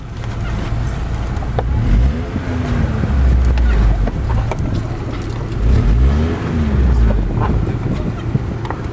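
A car engine runs steadily at idle, a low continuous rumble that swells and eases a couple of times, with wind noise over the microphone throughout.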